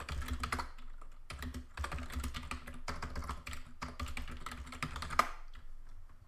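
Close, steady typing on a computer keyboard comes in quick bursts of clicking keys separated by short pauses, with no talking.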